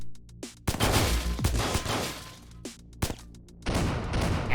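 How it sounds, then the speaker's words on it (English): A sequence of sharp explosions and blasts from the Metroidvania-style video game Extraneum bursts out in several loud, separate hits, the last one a big boom, with no talk. "because that was a very big explosion."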